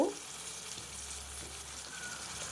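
Spring onions and tomatoes fry in a pan with a soft, steady sizzle that runs quietly and evenly throughout, faint and close.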